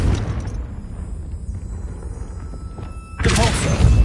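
Confringo blasting spell explosion in the Hogwarts Legacy video game: a continuous low rumbling boom that surges louder toward the end with a burst of crackling impact.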